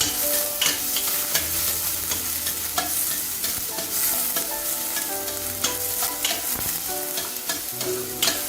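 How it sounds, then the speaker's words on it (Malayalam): Onion, a green chilli and a small piece of ginger sautéing in a pan, with a continuous close sizzle broken by repeated scraping stirs, with no talk. "സവാളയും ഒരു പച്ചമുളക്, ഒരു ചെറിയ കഷ്ണം ഇഞ്ചി ഇവ ചേർത്തൊന്ന് നന്നായി വഴറ്റിയെടുക്കാം."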